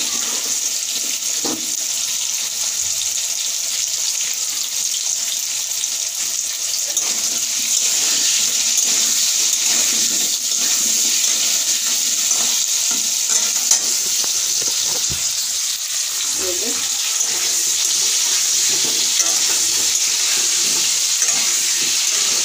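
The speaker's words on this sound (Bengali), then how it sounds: "লবণ আর হলুদ দিয়ে ভেজে নেব।" Potato pieces fry in hot oil with salt and turmeric, giving a continuous loud, hissing sizzle with a few faint stirring scrapes throughout.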